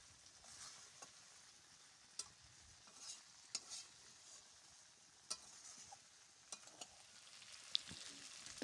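Mutton with potatoes and garam masala stir-fried in a pan for a thin curry, a quiet steady sizzle broken by scattered scrapes and clinks of a spatula, no voices.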